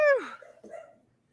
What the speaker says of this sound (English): my dog is barking anyway